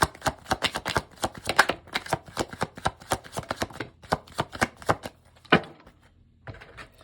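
Tarot cards shuffled by hand in a rapid run of crisp riffling slaps and flicks, close and fairly quiet, with a short pause near the end before a few last taps.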